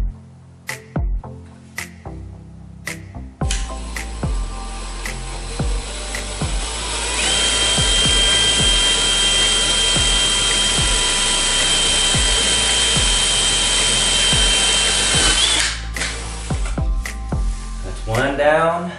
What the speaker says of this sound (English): Make sure you drill your hole nice and straight.